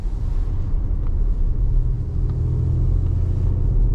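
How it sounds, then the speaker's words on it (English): A 2024 Audi SQ5's V6 engine gives a deep, steady throaty rumble heard from inside the cabin while driving, continuous and fairly loud with no talking. "Nice throaty noise too that this V6 throws out."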